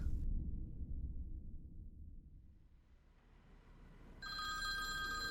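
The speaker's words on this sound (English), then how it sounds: "She picked up the ringing phone" A telephone bell starts ringing near the end, bright and steady, rising out of a low rumble after a quiet stretch.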